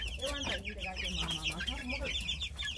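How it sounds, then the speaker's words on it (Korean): Two-month-old white silkie bantams and young silkie chicks in an outdoor coop give soft, repeated clucks and chirps close by, with a voice speaking in the background. "야외 닭장에 가지고 와서 기존 백봉 오골계 병아리들하고 이제 합사를 시켰습니다."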